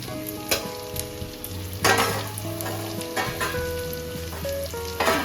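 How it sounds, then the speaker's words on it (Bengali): Pumpkin pieces fry in oil in a pan at home, a close crackling sizzle with sharp pops and stirring clatters, while faint background music tones sit underneath and no one speaks. "এবার কুমড়োগুলো দিয়ে দিলাম।"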